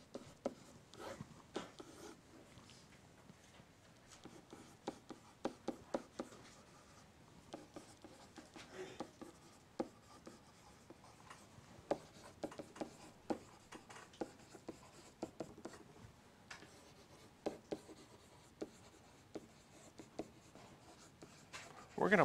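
Pen or pencil writing out math steps on paper, close and quiet, with continuous scratchy strokes broken by frequent sharp taps and short pauses throughout.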